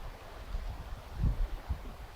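Wind blows outdoors as a low, rumbling buffet across the microphone, with a couple of stronger gusts thumping through the steady blustery noise and no speech.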